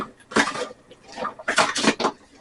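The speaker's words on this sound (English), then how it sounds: "Just stir that around so your potatoes get all oiled." Hamburger and potatoes with butter being stirred in a pan, a spoon scraping and clinking against the metal in a few short, close bursts.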